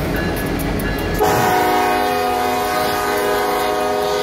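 A Union Pacific Big Boy steam locomotive passes close by in Geneva during a 2019 historic run. Its loud, steady multi-tone horn starts about a second in and holds over the rumble of the train.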